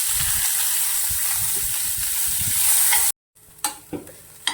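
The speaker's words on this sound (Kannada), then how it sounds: "ಈರುಳ್ಳಿ ನೀಟಾಗಿ ಫ್ರೈ ಮಾಡ್ಕೊತೀನಿ." Chopped onions fry with cumin in about two spoons of hot oil in a pan, a dense close sizzle with stirring scrapes that cuts off abruptly, leaving a few faint clinks and taps.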